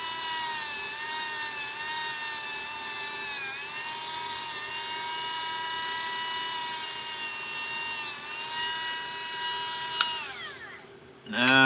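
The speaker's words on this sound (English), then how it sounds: "this sandpaper will not hurt you as long as you don't shove it on there hard" Sandpaper rubbed steadily across a wooden jewelry box, a continuous close scratchy rasp with a few changes in stroke, ending with a sharper scrape and handling noise.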